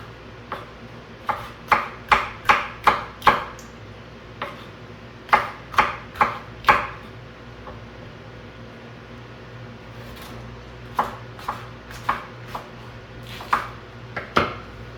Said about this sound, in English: Run my knife through it one more time